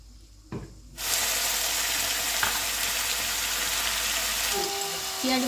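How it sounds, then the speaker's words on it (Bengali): Onion paste frying hard in a pan on a home stove for a Bengali rice meal. A loud, steady hiss starts after a brief clatter and runs unbroken to the end. "পেঁয়াজ বাটাটা ফ্রাই হয়ে গেছে"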